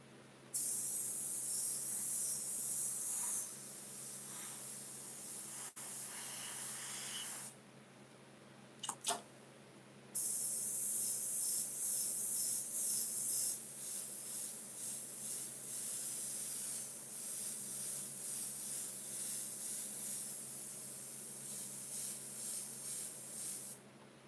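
Airbrush spraying over a watercolor painting: a steady, close, loud hiss in long bursts, cutting off for a few seconds midway with a couple of brief sputters before resuming.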